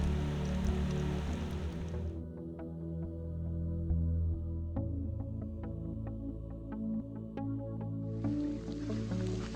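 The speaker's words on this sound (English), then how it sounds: "At Letaba in the rain." Steady rain falling at Letaba camp in Kruger National Park, a soft continuous patter with scattered drips and faint clicks, joined by broader hiss near the start and end.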